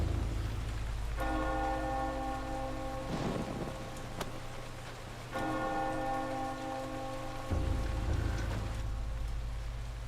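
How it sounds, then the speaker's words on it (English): Church bell rung in the video game Eternal Darkness, heard as two long sustained tolls that ring out and fade over a steady background of rain with no talking. "Should Paul ring the bell anyway"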